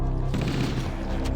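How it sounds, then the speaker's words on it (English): Gunfire in Halo: Combat Evolved, a dense burst of rapid shots packed into about a second, loud and close. "I just shot you as you respawn"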